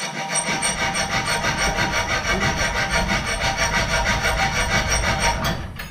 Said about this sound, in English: we get another round file which is actually off a chainsaw, or for a chainsaw